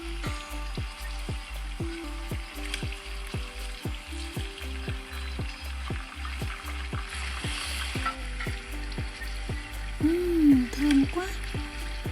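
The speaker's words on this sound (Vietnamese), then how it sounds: "Phần bí và giò sống này mình sẽ chiên trong 8 phút." Steady crackling sizzle of pumpkin and raw meatballs frying in a pan, with short rhythmic taps and scrapes from stirring, and a brief rising squeal near the end.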